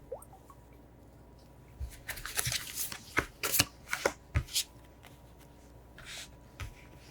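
Tarot cards handled, shuffled and flipped over during a reading, giving soft papery slides and snaps in a scattered run of bursts, close and fairly quiet, with no talking.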